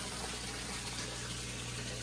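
A Fluval FX6 canister filter pump draws water into a three-stage filter on a home bait tank, giving a steady, even rush and hum of moving water with no pauses, alone and without voices.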